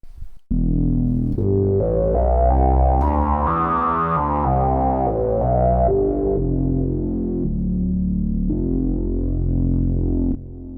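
Deep, buzzy BP Synth bass patch holds sustained notes that shift in pitch over a steady, loud drone, with a gritty distorted edge, alone and close with no speech.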